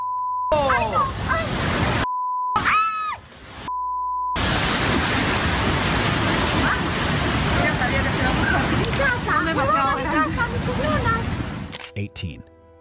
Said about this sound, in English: King tides and storm surge brutally mashed up in Marin County, California, unleashing epic coastal floods.